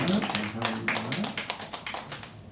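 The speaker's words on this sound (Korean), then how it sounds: "하나님께 박수로 영광을 돌립니다" A church congregation claps during a Sunday worship service: a scattered patter of hand claps runs through the whole stretch, partly under a speaking voice at the start.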